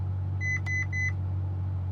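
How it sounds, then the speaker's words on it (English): A Ferrari F12 Berlinetta sounds a warning chime as its ESC is switched off: three quick, bright beeps in close succession inside the cabin, over a low, steady idle hum. "The car also beeps at you with like a loud warning beep to let you know you've done it."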